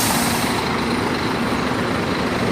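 A Scania K410 bus engine idles with a steady, loud, continuous rumble and hiss that stays even throughout, with no talk over it.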